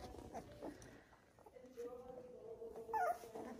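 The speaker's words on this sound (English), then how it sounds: "Gorgeous puppies." A litter of doodle puppies, just starting to move around, whimper and yip softly in thin high cries, several short calls spread over a few seconds with a quiet room behind them.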